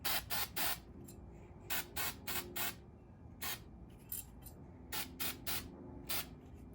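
Anti-seize is sprayed onto Jeep JL tie rod threads in short, sharp hissing bursts, several quick spurts in clusters with quiet gaps, close and fairly loud.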